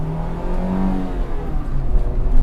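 A car's engine revs high under hard acceleration on a racetrack, a loud sustained in-cabin drone rising and shifting in pitch as the throttle is held open.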